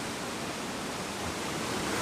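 The waterfall at Snow Creek roars as a loud, unbroken broadband rush of falling water, close and constant with no other sounds.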